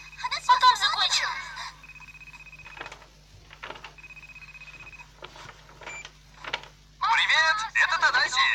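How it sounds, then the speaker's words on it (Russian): A telephone ringing in an indoor scene, with repeated electronic ring bursts and steady tones separated by short gaps, accompanied by background noises and brief voice-like sounds. "Твой телефон."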